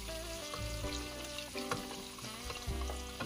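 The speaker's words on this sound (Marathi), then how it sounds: "आणि छान आपल्याला असे क्रिस्पी अंडे तळून घ्यायचे त्या तेलामध्ये" Eggs fry until crisp in hot oil with red chilli for an egg biryani, giving a steady, close sizzle with faint crackles and a few light clinks, no voices.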